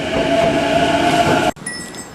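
A train on the line to Mitake in Tokyo rumbles loudly and close, then cuts off sharply into quieter station ambience with a few faint metallic tones.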